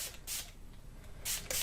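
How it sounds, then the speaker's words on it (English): Water spritzed from a spray bottle onto distress ink on upcycled junk journal paper, in several short, soft hissing bursts with quiet pauses between them. "If you spray this with water now"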